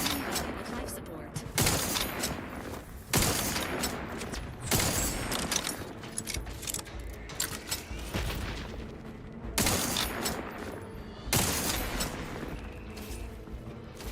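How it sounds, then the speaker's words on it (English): Enemy gunfire in The Outer Worlds 2, repeated loud bursts of shooting arriving in waves every second or two, close and harsh, with other game sounds between the volleys and a voice speaking now and then. "Oh, you guys are actually shooting at me."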